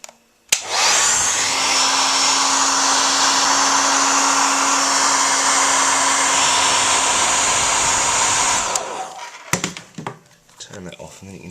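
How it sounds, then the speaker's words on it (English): A hairdryer heating a football shirt's printed name and number roars loudly and steadily for several seconds, then switches off, leaving a few handling clicks and rustles. "with a little bit of heat applied to it from the hairdryer, it begins to pull away."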